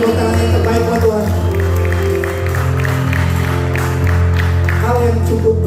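Church congregation applauding during a worship service, continuous clapping under sustained music with a loud, full room sound.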